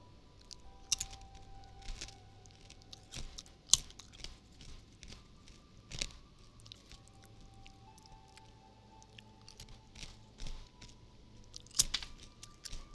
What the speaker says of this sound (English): Sorry you have to hear me crunch on chips.